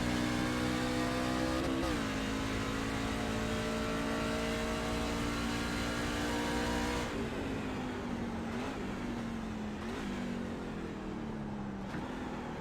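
A loud racing truck engine in the iRacing sim at Circuit of the Americas drones and revs upward steadily, pitch climbing through several gear shifts with brief dips, continuous and close with no voices.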